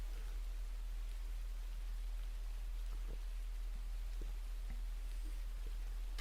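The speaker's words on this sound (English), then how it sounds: "It's a nice rainy day." Steady rain falls on a rainy day, a constant even hiss with scattered faint drops tapping through it, heard alone with no talking.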